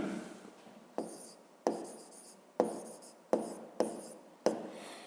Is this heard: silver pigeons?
no